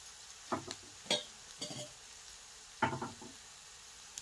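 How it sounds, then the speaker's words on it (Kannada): Eggplant pieces frying in a pan while being stirred, with a few separate bursts of scraping and sizzle spaced across a quiet background, fairly faint. "ಈ ಕಡೆ ಫ್ರೈ ಆಗಲ್ರಿ ಫ್ರೈ ಆಗ್ತಾ ಇರ್ತೈತಿ"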